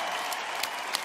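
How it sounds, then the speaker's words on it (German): Audience applause at a rock concert in Berlin, a dense steady wash of clapping from a large crowd that holds at one level throughout, with no voices standing out. "Nochmal Applaus für den Neuen!"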